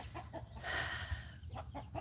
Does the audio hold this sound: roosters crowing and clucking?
yes